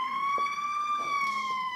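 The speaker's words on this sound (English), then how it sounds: "The siren, that's going to be the first one." A steady electronic siren tone from a 1/14 scale toy aerial ladder fire truck, slightly rising and falling, with no speech, bright and close like a toy's speaker.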